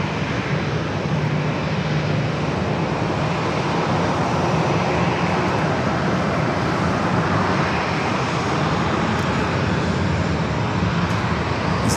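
Delta flight 932, a jet bound for Atlanta, taking off from San Diego airport: a steady, loud broadband engine roar that holds unbroken at close range throughout, with no voices.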